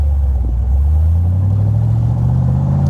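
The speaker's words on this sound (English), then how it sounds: "as you're sitting at a stop or a stoplight, that idle." 1966 Chevrolet Corvette convertible idling at a stop, a deep steady rumbling engine note, loud and close, running alone without talk.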